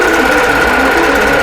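A sewing machine stitching quilt blocks runs steadily, a loud, close, continuous mechanical whir with a faint rapid needle pulse and no pauses.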